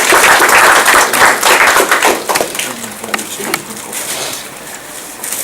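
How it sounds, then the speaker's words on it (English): An audience at a Scrum meetup gives loud, dense applause that is strongest at first and thins into scattered claps toward the end, with a few murmured voices underneath. "Could we give him a round of applause"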